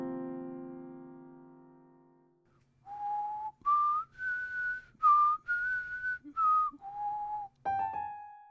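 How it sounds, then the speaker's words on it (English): A man whistles an eerie melody in clear, sustained notes that step up and down with short pauses between phrases, close and alone, after a low fading tone at the start. "He starts to whistle this melody that just felt eerie and very out of place."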